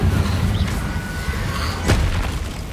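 An Incendio fire spell goes off in Hogwarts Legacy as a loud, booming burst of flame over dense, constant in-game noise during a fight.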